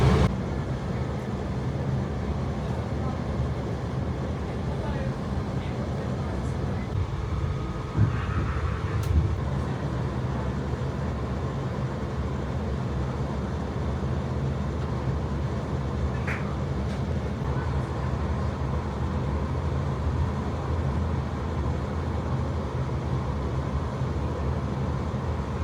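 Inside a passenger train on the line from Oxford toward Aylesbury, a steady low rumble of wheels and motors fills the carriage for the whole stretch, with a few faint clicks and squeaks on top and no talking.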